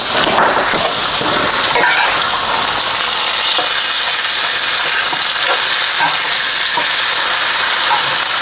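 Southern-style pork chops sizzle and fry in a skillet, a dense, steady hiss with crackling pops throughout, loud and close with no talking.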